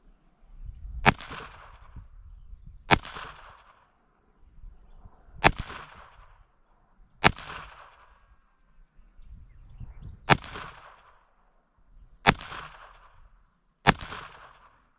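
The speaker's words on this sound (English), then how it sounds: "I know I'm shooting kind of fast." A Browning Buckmark target pistol fires .22 LR rounds from a rested position outdoors, producing seven sharp, evenly spaced cracks about two seconds apart with brief quiet between them.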